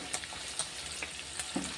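Chicken pieces frying crisp in hot oil, a soft steady sizzle with a few faint clinks scattered through, close by with no talk.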